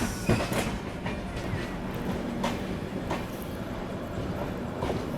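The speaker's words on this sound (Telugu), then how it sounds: "హైదరాబాద్ నుండి విశాఖపట్నం వెళ్ళే గోదావరి సూపర్ ఫాస్ట్ ఎక్స్ప్రెస్" The Godavari Superfast Express from Hyderabad to Visakhapatnam rolls past, with loud continuous rumble and rhythmic clickety-clack of wheels over rail joints heard close by.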